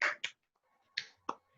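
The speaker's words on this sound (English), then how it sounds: "Unmute your mics and clap." A few scattered claps from online seminar participants over unmuted microphones, four sharp isolated hits with gaps between, thin and tinny.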